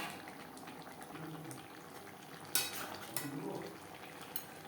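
Fish curry gravy bubbling quietly in a pot, soft simmering with a few sharp clinks of a metal spoon against the pan, faint and close, with no talk.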